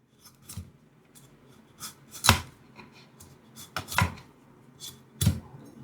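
Several sharp knife cuts on a board as the stem is cut off an eggplant, spaced irregularly, close and fairly loud, with faint scraping between them.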